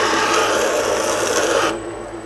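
A 2x72 belt grinder with a surface grinding attachment working metal, a loud steady abrasive rasp that drops to a quieter motor hum near the end.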